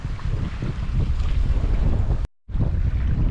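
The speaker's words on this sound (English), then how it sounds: "this is our closest approach to the ledge as we sail east past it" A sailboat sailing east past East Bunker Ledge in variable wind and haze: loud wind buffets the microphone over rushing water and waves, with one brief dropout to silence near the end.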